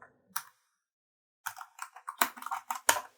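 Light, clacky keystrokes on a keyboard with a built-in 10-in-1 USB-C hub, heard near and quiet as a few isolated taps followed by a quicker burst of typing.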